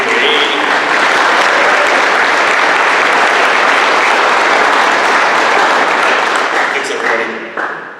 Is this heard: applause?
yes